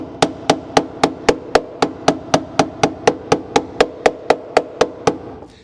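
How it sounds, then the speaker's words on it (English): Body hammers strike a car panel during welding repair on a 1991 Ford Escort RS Turbo, with about twenty sharp metallic taps in a steady, even rhythm, close and loud with no talk. "Again, using my hammers from Chelsea."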